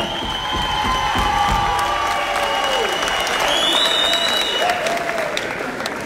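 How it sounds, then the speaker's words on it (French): Crowd at a political meeting gives continuous applause with some cheering, steady and fairly loud, while a whistle-like tone and other voices rise over it midway. "applaudissez-la pour ça"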